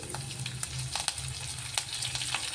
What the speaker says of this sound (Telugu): ఆయిల్ వేడెక్కింది. ఇప్పుడు కొంచెం జీలకర్ర, 2 ఎండుమిర్చి, అలాగే 2 కరివేపాకు రెమ్మలు వేసి,